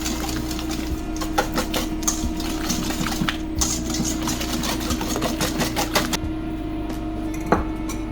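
Sugar whisked gently in a bowl for sponge cake batter: a continuous low mechanical hum sits under steady, repeated light ticking and tapping strokes against the bowl, close and even throughout.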